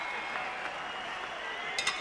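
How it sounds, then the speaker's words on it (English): A boxing arena crowd applauds after a twelve-round bout between Paulie Ayala and Johnny Tapia, a faint, continuous wash of clapping in the distance beneath a commentator's voice. "No matter who the winner is, they both deserve a round of applause."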